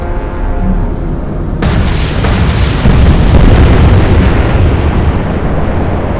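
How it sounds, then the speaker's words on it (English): Heavy naval explosion from a torpedo strike sinking a destroyer in the Atlantic Fleet game, erupting suddenly into a loud, sustained rumbling roar that stays dense and powerful to the end, with no voices. "Huge explosion, and the Myrmidon is sinking."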